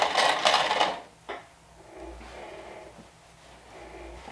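A sewing machine runs a short burst of topstitching on a leggings waistband, loud for about a second, then falls to a quiet hum and light handling sounds.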